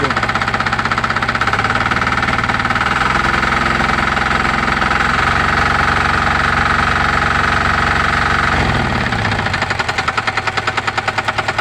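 Engine idling at a loud steady rumble, then slowly revved up, the pitch and vibration climbing gradually near the end.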